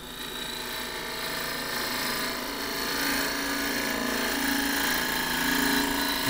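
A wood-turning tool cuts green elm on a lathe, roughing away flat areas of a crossgrain tube blank. A continuous, loud, close rasping and hissing cut with a steady spinning drone runs throughout, with no talking.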